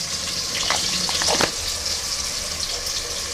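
Onions frying in hot oil with mustard seeds, bay leaf, curry leaves and spices for mushroom pulav, a loud, steady close sizzle with a few brief crackling bursts early on and no talking.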